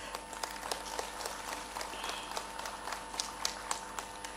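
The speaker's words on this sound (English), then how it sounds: "A warm applause." Warm applause from the audience at a watershed festival ceremony in Manipur, a moderate, steady patter of clapping with scattered sharper claps, heard somewhat distant and fairly quiet for a few seconds.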